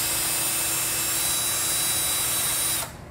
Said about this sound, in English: Thankfully, conduit is actually pretty easy to drill through, so that's not a problem.